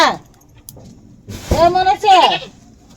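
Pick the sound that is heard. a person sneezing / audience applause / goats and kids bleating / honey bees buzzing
goats and kids bleating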